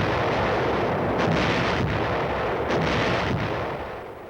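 Artillery guns fire in a sustained barrage during a forward drive, a dense, continuous rumble with several sharper blasts standing out, loud and close with no voices.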